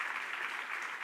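Audience applause at a church service, a steady dense wash of clapping that holds at an even level throughout, with no distinct individual claps standing out.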